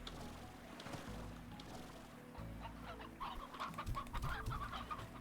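Basic hen in the video game Slime Rancher clucking repeatedly in a busy run of short calls, mid-distance over a steady low game ambience.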